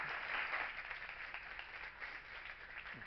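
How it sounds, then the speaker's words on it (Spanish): Students applaud a speaker at a lecture, producing faint, distant, steady clapping that fills the room and tapers slightly toward the end. "Un fuerte aplauso para él."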